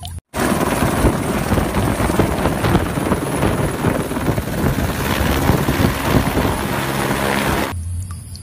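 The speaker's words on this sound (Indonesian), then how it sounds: "Wow, ada helikopter." A toy helicopter in a children's toy video gives off a loud, steady whirring rotor drone for about seven seconds before cutting off abruptly.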